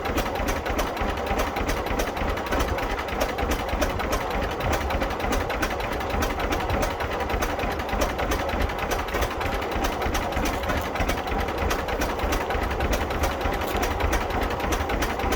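Restored 1949 John Deere G tractor engine idling steadily after a head gasket installation, a continuous close, loud mechanical chugging that never lets up, with no voices.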